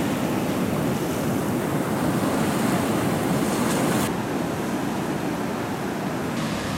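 Loud ocean surf crashes steadily onto Fukumitsu Beach in Shimane, Japan, a continuous roaring wash of waves with wind rumbling into the microphone.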